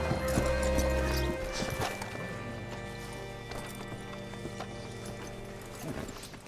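Horse hooves clop nearby and a horse whinnies in the video game Red Dead Redemption 2, followed by a few slower hoofbeats over a steady tonal background.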